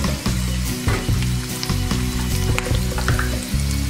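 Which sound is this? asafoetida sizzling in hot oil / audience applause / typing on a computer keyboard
asafoetida sizzling in hot oil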